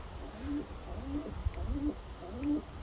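Racing pigeons coo inside a loft, four soft, evenly spaced calls close by against a quiet background, with a faint knock or two.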